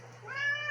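Lynx, a pet cat, gives a single short rising meow, close and clear over a low steady hum.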